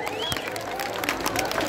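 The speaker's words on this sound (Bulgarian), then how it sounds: "Моля вашите аплодисменти за нашите прекрасни домакини от Азарел Медет." Dense, continuous audience applause for the hosts from Asarel Medet at a celebratory company event, loud and steady throughout, with crowd voices and a pitched tone mixed in.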